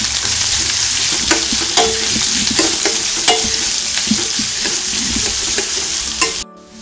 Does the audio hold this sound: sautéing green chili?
yes